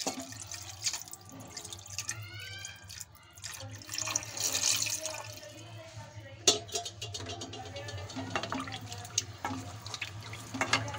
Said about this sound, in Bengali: এখন আমি এর মধ্যে দিয়ে দিচ্ছি দুধ।